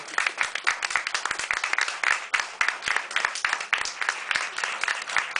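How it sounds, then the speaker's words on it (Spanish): An audience applauds at an evening arts café event, many hands clapping in a steady, moderately close patter that continues throughout, with no talking. "Y pedimos un aplauso enorme para Daniel Brito."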